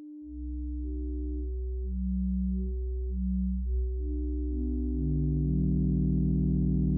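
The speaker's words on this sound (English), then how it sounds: "Pure sine waves sound pretty bland" Pure electronic sine tones from a 1960s-style oscillator patch hum steadily, with higher pitches switching on and off in short steps over a constant low drone, ending in layered overlapping tones.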